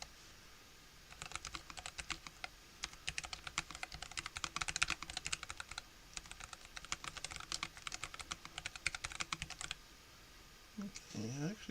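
Fingers type steadily on a mechanical keyboard with new keycaps, producing soft, fairly quiet clicks in rapid bursts, followed by a brief voice at the end.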